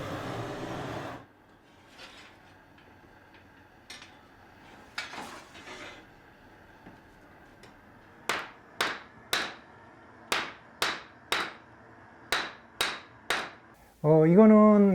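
Heated bangjja bronze brassware being hammered thin by hand, with a series of about ten sharp, ringing metallic strikes in a steady rhythm after a few softer scattered taps, close and loud.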